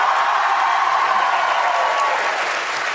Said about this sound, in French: La foule crie trop fort!